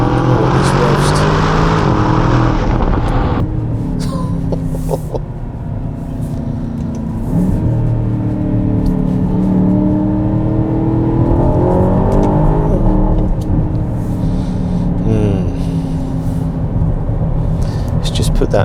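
An Aston Martin DBX SUV engine revs hard and climbs in pitch, drops back, then revs up again, loud and close, with crackles as it shifts down.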